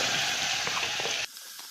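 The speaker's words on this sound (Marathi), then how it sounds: "आता आपल्याला हिरवी मिरची लसणाचं वाटण टाकायचं आहे" Green chili and garlic paste hitting hot oil in a pan, a loud, close hiss that roars steadily and then drops abruptly to a quieter crackle.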